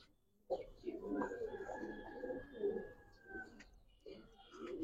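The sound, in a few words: Giribaz and coloured pigeons cooing in a loft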